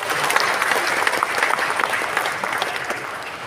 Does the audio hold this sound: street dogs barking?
no